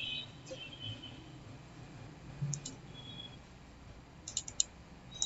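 Several soft computer mouse clicks while operating MS Word 2007, scattered and faint over a low room hum, with a small cluster near the end.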